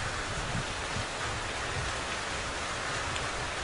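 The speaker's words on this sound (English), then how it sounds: "The rain just kind of hit full blast." Heavy rain pouring at an outdoor shooting range, a steady full-band hiss of downpour striking surfaces nearby, continuous and unbroken with no voices.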